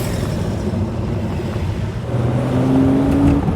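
A classic Rover P4 cruises along with its engine running in a steady, smooth drone, heard from inside the car as it drives.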